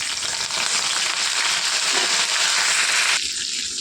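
Curry leaves, two dried red chillies and garlic fry in hot oil, giving a loud, steady broadband sizzle with crackling spatter throughout, then easing slightly toward the end.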